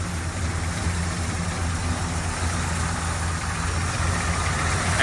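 A 1972 Chevrolet Nova engine with a Holley carburetor idling after an idle-mixture adjustment, a steady, loud low-pitched rumble with an even pulsing rhythm that continues unbroken, with no voices.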